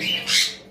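Cockatiel giving a single sharp, shrill squawk, close and fairly loud, rising and fading within under a second, kept among other cockatiels and their chicks.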